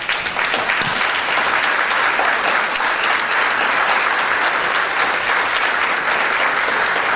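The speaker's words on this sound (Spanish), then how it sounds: "podremos en parte retribuir con un caluroso aplauso" Sustained applause from an audience at an academic lecture, a steady dense wash of clapping that holds evenly for the whole stretch without a break.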